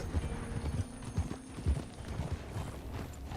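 Horse hooves clip-clop in Red Dead Redemption 2, a steady walking rhythm of close, soft thuds that keeps going throughout with no talk over it.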